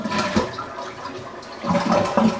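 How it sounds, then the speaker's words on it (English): A toilet flushes to drain the remaining water from its tank, with the water supply already shut off; a steady rushing swirl with gurgling surges runs throughout, close and moderately loud, with no voices. "I would flush out the rest of the water from your tank"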